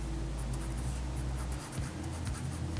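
A pen scratches across paper while a seated person with crossed legs is sketched, making steady close scratchy strokes with small gaps between lines, heard alone without talk.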